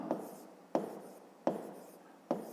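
Pen or pencil writing numbers in a fifth-grade maths exercise book, four quick separate strokes at a steady rhythm, close and fairly quiet, with no talk.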